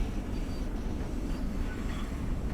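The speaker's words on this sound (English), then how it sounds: "This train comes past us there." A Long Island Rail Road commuter train in a train simulator game rumbles past steadily, a continuous dense roar of wheels and motors without pause.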